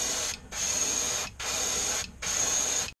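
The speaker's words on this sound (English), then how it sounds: "I'm just spraying on clear." Clear coat is sprayed from an aerosol can onto a painted fishing lure in three steady hissing bursts with short gaps between them, close and fairly quiet.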